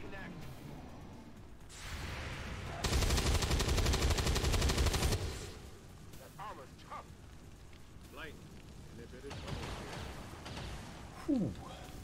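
A burst of automatic gunfire in XCOM 2 roars for about two seconds in the middle, framed by quieter game ambience, sharp effects and a later loud hit.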